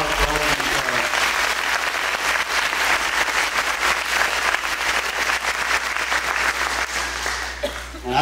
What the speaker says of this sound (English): I've got a round of applause for all of you.